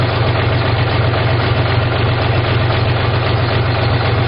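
A 45 hp tractor engine idles close and loud, a steady low throbbing rumble with a slight knocking vibration and no change in speed, with no talking.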